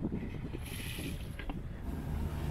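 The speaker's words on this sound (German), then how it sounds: "Ja, leider läuft wieder der Motor." A sailboat's motor runs steadily on glassy, windless water in the Italian Adriatic, a low continuous engine drone with faint water wash, fairly quiet and with no one talking.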